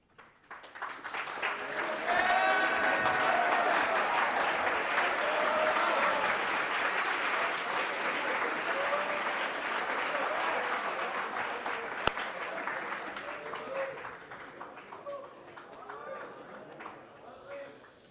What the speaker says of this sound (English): Let's give him a good round of applause